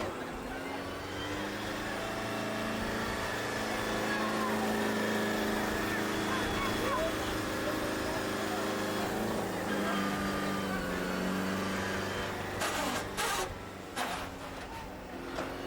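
A Kubota tractor called Blue Tiger drones steadily as it reverses a loaded trailer outdoors, a loud continuous engine hum throughout with voices talking over it and a few sharp knocks near the end.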